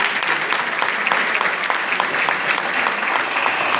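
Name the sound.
audience applauding loudly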